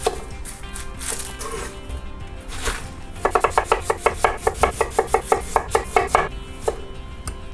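A knife chops vegetables on a board for a stir-fry ramen dish, fast even strokes in a quick run of about a dozen sharp knocks, close and clear.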